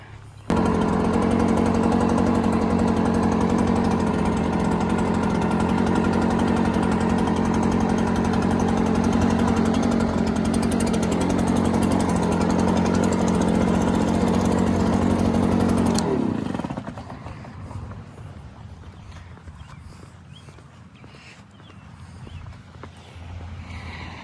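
A lawn mower runs steadily and loud with a constant droning engine tone over a long stretch of Bermuda grass, then abruptly cuts off, leaving a quiet outdoor background.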